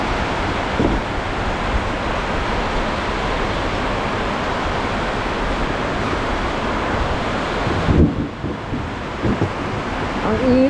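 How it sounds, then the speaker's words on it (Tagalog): Dense, steady roar of heavy rain and gusting wind fills the air continuously, with a few brief knocks toward the end. "biglang lumakas ang ulan."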